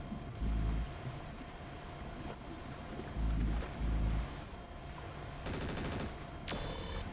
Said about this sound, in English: Militia units have opened fire on the platforms.